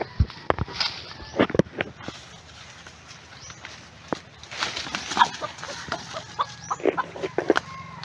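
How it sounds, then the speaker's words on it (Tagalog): Native chickens caught in a simple trap cluck in short, scattered bursts, close by, over a low background hum with some rustling between calls. "Manok ang nahuli."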